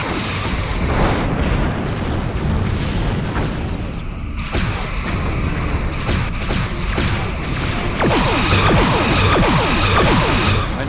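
Torpedo fire and explosions from the Star Trek Bridge Commander space combat game: a continuous dense rumble of booms and bursts with layered crackling impacts, loud throughout the scene.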